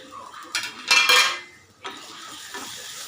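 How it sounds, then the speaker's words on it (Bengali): A lid is lifted off a frying pan where okra for bharta fries in mustard oil, with a couple of sharp metallic clanks and a rattle, followed by softer kitchen clatter and faint sizzling. "এবার আমি ঢাকা খুলব।"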